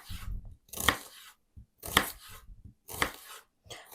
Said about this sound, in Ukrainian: Нарізаю дрібненьку цибулю